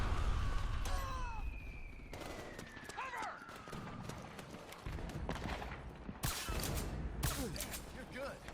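Battlefield gunfire in the video game Metal Gear Solid 4: bursts of rapid automatic fire and sharp shots at varying distances, with whizzing sounds and clattering, under shouted talk.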